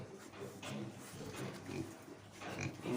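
A Landrace Yorkshire sow gives soft, low grunts at close range in a quiet pen, a few irregular short snorts spread across a few seconds.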